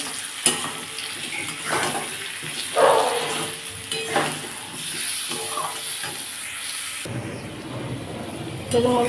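Bengali fish curry masala with turmeric and salt being sautéed and stirred in a pan, a steady low sizzle broken by repeated scraping strokes of a spoon against the metal, close and moderately loud.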